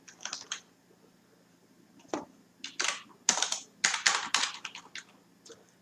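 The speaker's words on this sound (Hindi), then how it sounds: "तो इसको हम टाइप करते हैं," Fingers typing on a computer keyboard in short bursts, crisp close clicks clustered into quick runs separated by brief pauses, with no talking over them.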